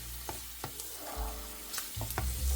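Garlic browns in olive oil in a pan, a soft sizzle with occasional scraping knocks of stirring, fairly quiet and close, without talk.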